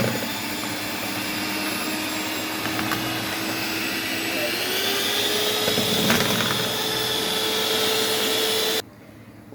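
An electric hand mixer whips whipped-cream powder with a glass of milk for mango kunafa, a steady high motor whine running continuously for about nine seconds before stopping abruptly.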